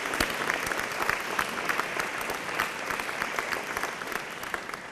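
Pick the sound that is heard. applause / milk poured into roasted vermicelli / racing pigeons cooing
applause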